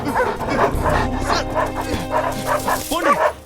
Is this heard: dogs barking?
yes